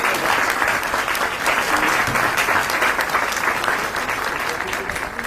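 A church congregation at a Walloon-language Mass applauds the Saint-Jean choir with dense, sustained clapping that fills the space evenly from start to finish.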